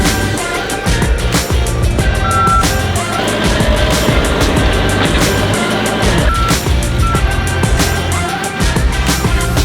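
A dump truck hauling away brush from a house-building site, with a loud engine rumble and steady reversing beeps up close, machinery noise running the whole time.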